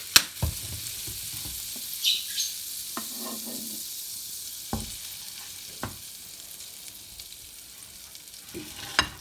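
Pancake batter sizzles gently in an oiled pan, a quiet steady frying hiss broken by a few sharp clicks and taps of utensils, close and without voices.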